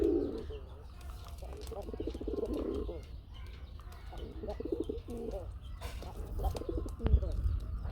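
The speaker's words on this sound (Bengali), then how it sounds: "ডাকের কবুতর" Pigeons cooing in low, repeated throaty calls close by, with faint voices and some rustling in the background.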